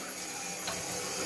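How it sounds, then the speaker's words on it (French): A tap on newly renovated kitchen and bathroom plumbing opens to purge air from the pipes, letting out a steady, soft rush of running water with no voices. "je vais ouvrir le robinet ici"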